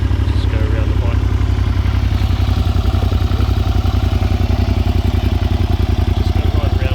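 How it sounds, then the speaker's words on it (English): A cold-started Suzuki SV650S V-twin motorcycle idles loudly and close by, with a steady, fast low-pitched throb and a mechanical clatter, unbroken throughout. "SV650S, cold starter."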